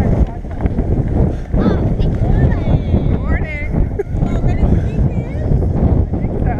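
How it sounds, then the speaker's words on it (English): Strong wind gusts outdoors on frozen ice buffet the microphone in a constant roar, with people talking over it throughout. "Look how windy it is out."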